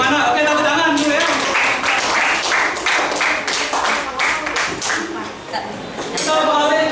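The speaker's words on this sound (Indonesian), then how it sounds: "Oke, tepuk tangan dulu ya." A classroom of students applauding on cue, a burst of quick overlapping claps that swells, thins and returns, fairly loud and close, with voices mixed in beneath.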